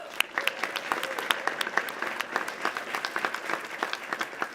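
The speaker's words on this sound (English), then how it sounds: "Let's give them a round of applause" Conference audience applauding sponsors, a dense, steady wash of many hands clapping at close range, with sharp individual claps standing out throughout and no one speaking.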